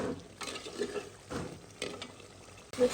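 Beef cooking in oil in a pot, stirred with a utensil: close scraping strokes come in a few bursts over a low steady sizzle, with a brief clink at the end and no voices.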